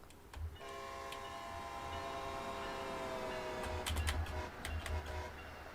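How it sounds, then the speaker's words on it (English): A train in the Train Sim World 2 game on the Northeast Corridor between Providence and Boston South sounds a long, sustained horn over a steady low rumble of rail running, with a few sharp clanks toward the end. "I think there's a train in the depot."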